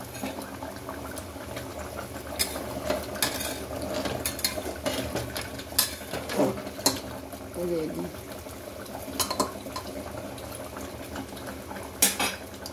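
Food frying in a pan on a gas stove in a home kitchen, a steady low sizzle and bubbling with occasional clinks of a utensil against the pan, while someone talks now and then.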